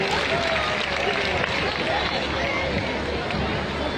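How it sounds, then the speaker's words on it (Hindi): A crowd at an all-night devotional jagran gives steady, continuous applause to welcome a singer, a dense wash of clapping mixed with crowd noise and voices. "एक बार जोरदार तालियां बजा के स्वागत कीजिए"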